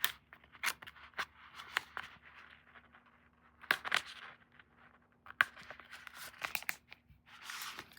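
Scissors snip through paper cutting out a butterfly shape, with sharp close cuts in irregular bursts and soft crinkling and rustling of the paper between them.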